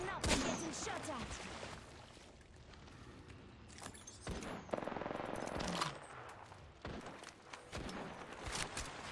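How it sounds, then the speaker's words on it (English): Apex Legends on the Nintendo Switch: repeated bursts of automatic gunfire crack out with sharp, loud shots and quieter stretches between volleys. "Listen up, I'm getting shot at."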